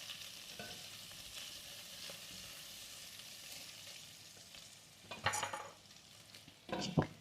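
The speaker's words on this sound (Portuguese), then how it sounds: "Já fritou bem, né? Vou colocar o alho." Garlic frying in a covered pan on low gas, a quiet steady sizzle with a couple of sharper clatters of the lid or utensil near the end.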